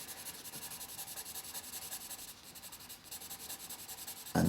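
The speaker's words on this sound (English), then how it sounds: "basically finish off using my finger to rub in certain areas where the clouds" A finger rubs over a pencil drawing on paper, blending graphite into cloud areas of a London skyline landscape: a steady, soft, close rhythmic stroking hiss that repeats about twice a second, with a brief thump at the very end.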